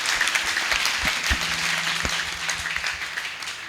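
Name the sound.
congregation applauding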